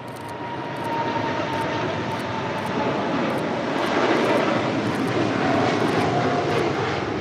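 An airliner touching down on runway 25 left at LAX, its engine roar steady and loud throughout, swelling slightly partway through with broadband rushing noise.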